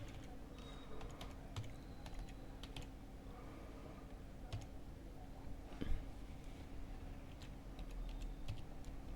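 Fingers tap out a password on a computer keyboard, a scatter of soft, quiet clicks in uneven bursts over a low steady room hum.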